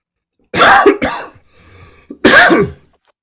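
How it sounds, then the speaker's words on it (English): Two or three short, harsh coughs close to the mic, a brief pause between the first bursts and the last, with a raspy, throat-clearing edge. "Sorry, I got one of those tickly coughs again."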